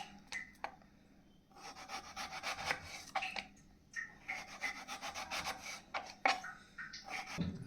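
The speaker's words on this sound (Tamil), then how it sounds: "ஸ்லைஸாக கட் பண்ணி எடுத்து வச்சுக்கலாம்" Knife cutting raw banana into slices for banana bajji, heard as quiet, repeated scraping and rubbing strokes in short irregular bursts, close by.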